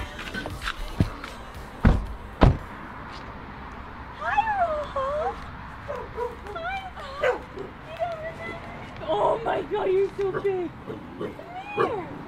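A big dog whimpering and whining in high, wavering cries, with a few sharp close knocks early on; people talk softly and affectionately over the dog's repeated whines.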